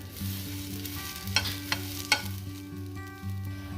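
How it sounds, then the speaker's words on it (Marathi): Tender sorghum (hurda) roasts in a pan with a soft continuous sizzle and a few sharp stirring scrapes. A steady low hum runs underneath, and no one speaks. "मस्तपैकी 2 मिनिटं भाजून घेऊ"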